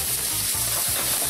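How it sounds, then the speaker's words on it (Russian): Pork sizzling and frying in a well-heated pan, a steady loud crackle throughout with faint stirring, no talk. "Быстро-быстро ее обжариваем."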